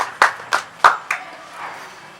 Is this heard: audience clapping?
yes